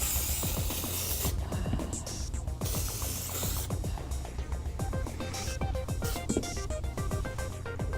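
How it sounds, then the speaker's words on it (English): Powder is sprayed into shoes in short hissing bursts, close and fairly loud, mixed with clicking and rattling handling noises and no talk. "I find they go back in easier when you spray them down with a little powder"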